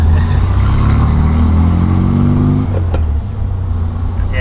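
A Baja Bug on its first test drive after fitting custom TIG-welded tie rods, its engine droning loud and steady with a rising rev sweep before easing back.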